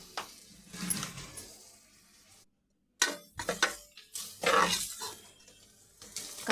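A spoon stirs coriander powder, chicken masala and chilli powder into tomato pulao in a pan, giving irregular scraping and rustling bursts with a brief silent gap midway.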